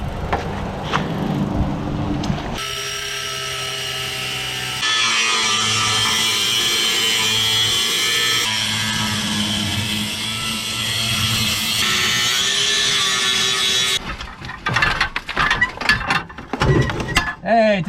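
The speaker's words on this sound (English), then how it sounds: "We ended up just cutting the pipe completely in half." An angle grinder cuts a pipe in half while a 1998 Ford Ranger is being torn down. A loud, sustained grinding whine runs in steady stretches and ends in a burst of clatter and handling noise.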